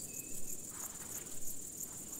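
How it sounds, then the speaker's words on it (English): A large marsh grasshopper on an open moor produces its song by snapping its hind legs, a faint, high, rhythmic ticking buzz that pulses steadily over a quiet outdoor background, with no talk. "Large marsh grasshoppers are easily recognisable by their song, which is produced by a rhythmic snapping of their hind legs."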